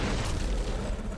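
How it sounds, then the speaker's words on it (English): A grenade blast in the video game Dark Sector, a loud, dense low-end boom that fills the whole moment and rumbles on without a break, with no talking over it. "And now he threw a grenade, man."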